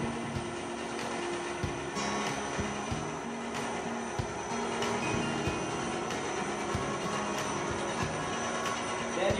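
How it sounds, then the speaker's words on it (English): A feed pump runs on a clay-free used-oil polishing machine, giving a steady mechanical hum with a regular low pulsing throb and faint rattles, continuous and fairly close with no talking. "There you can see this is the feed pump running, and this is the oil we are feeding."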